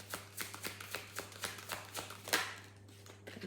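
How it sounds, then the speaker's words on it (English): Oracle cards being shuffled in a quiet room, a series of soft, rhythmic riffling taps and slaps over a faint steady hum. "I don't like shuffling these ones like that for some reason."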